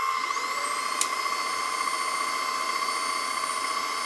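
An APOSEN 18Kpa handheld cordless vacuum with a head brush attached runs steadily at close range, giving a constant high-pitched whine with a brief click near the start and no talking.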